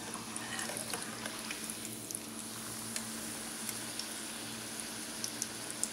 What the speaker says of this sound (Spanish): Aquí ya estamos friendo la tortilla.